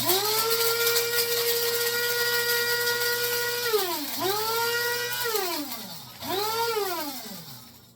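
An electric grinder grinds dried Cuban oregano with a loud whining motor. It spins up to a high steady whir, winds down, then fires up in two shorter bursts that each rise and fall in pitch.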